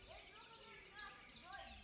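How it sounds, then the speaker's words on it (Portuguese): Small baby birds chirp in short, high repeated calls at close range, in a fairly quiet outdoor setting, with no talking heard. "E tá aqui os passarinhos"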